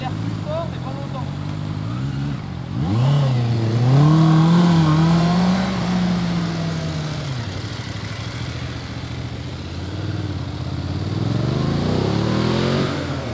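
A motorcycle engine revs up hard and then drops back during a straight-line braking drill between cones, its rising and falling whine loud and close, with steady engine noise before and after.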